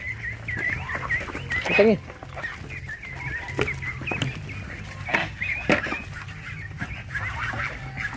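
Farm geese and ducks give a scattering of honks and quacks, one loud burst near the start and more calls spread across the clip over low background noise, with a person speaking briefly.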